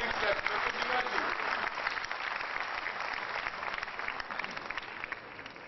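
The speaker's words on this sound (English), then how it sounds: "Please give a big clap." Sustained applause from a conference audience at a JDICON 2008 gathering, a dense wash of many hands clapping at an even level, heard from within the hall for several seconds.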